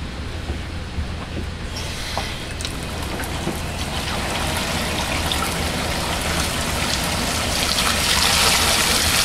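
Cold water runs and splashes over gravure tissue during developing to halt development, a steady close hiss of rinsing water that grows slightly louder, with no talk.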